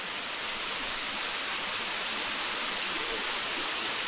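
Clear river water rushes steadily at Kawasan Falls in Balilihan, Bohol, a dense, even, unbroken wash of flowing-water noise that fills the clip with no pauses.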